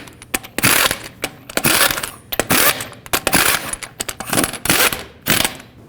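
Torque wrench tightening lug nuts on a GMC Yukon wheel in a cross pattern, rapid loud metallic ratcheting clicks in repeated bursts, close up.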